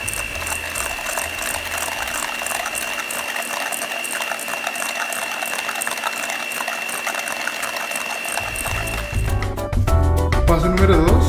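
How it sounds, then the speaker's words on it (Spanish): An electric hand mixer whirs steadily while beating butter and sugar for cookie dough, a continuous mechanical buzz with a rattling, ratcheting texture, growing louder and rougher in the last seconds. "con ayuda de una batidora, vamos a empezar a batir hasta que quede de manera homogénea"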